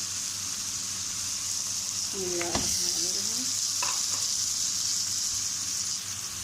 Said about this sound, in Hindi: गोश्त को हमने अच्छी तरह डाल लिया और इसको हम अच्छी तरह भूनेंगे